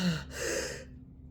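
A voice imitates heavy monster panting, a close, breathy gasp and exhale with a rasping, hissing quality, faint and brief.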